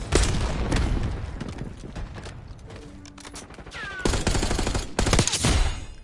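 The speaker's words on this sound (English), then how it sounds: "Throwing frag." Gunfire and booms from Black Ops 6 Zombies crowd the mix, and a frag grenade detonates among repeated loud bursts with music underneath, sharp blasts near the end.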